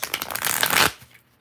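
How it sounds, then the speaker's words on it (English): Tarot cards riffle-shuffled in a quick rustling burst that builds to a crisp flutter, then stops abruptly, leaving near silence. "3 more shuffles."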